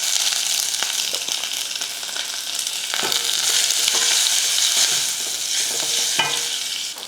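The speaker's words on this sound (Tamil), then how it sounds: "எண்ணெய் காஞ்சதும் கொஞ்சம் கடுகுளுந்து கடுகு பொறிஞ்சதுமே கொஞ்சம் கருவேப்பிலை" Continuous crackling sizzle of mustard seeds popping in hot oil, with scattered sharper pops throughout, close and fairly loud.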